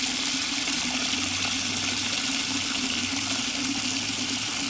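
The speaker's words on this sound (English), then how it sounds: "filling the bucket up with water" Water pours steadily into a bucket, a continuous rushing and gushing flow at moderate level with a low rumble beneath, with no talking.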